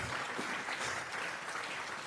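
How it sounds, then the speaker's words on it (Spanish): A church congregation claps together in sustained, dense applause that fills the space evenly, steady and fairly close, with no speech on top. "Vamos a regalarle ofrenda de palmas al Dios de la gloria."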